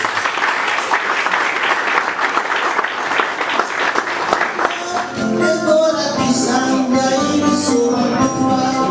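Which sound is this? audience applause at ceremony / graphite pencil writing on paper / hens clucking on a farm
audience applause at ceremony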